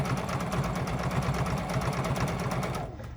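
A sewing machine runs fast and steadily while free-motion quilting a Mini Stacks quilt, its rapid needle rhythm close and continuous before cutting off just at the end.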